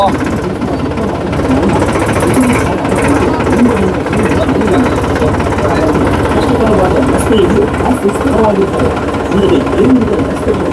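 A Ferguson tractor engine with a remote key start runs at a farm fair, a loud, steady rumbling drone that fills the whole clip, with crowd noise mixed in.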